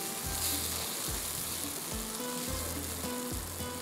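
Ground spices sizzling as they are stirred into fried garlic in a pan, a constant bright hiss with rhythmic scraping strokes about every half second, close and alone.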